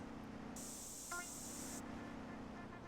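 Spray paint hisses steadily for about a second in GTA San Andreas, a bright continuous spray over a constant low game hum, with a short click near the middle.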